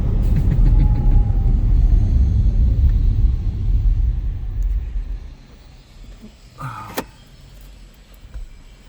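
A Baojun E100 electric car drives with a steady loud low road and cabin rumble that fades after about five seconds, then a few clicks and a brief whine as it slows.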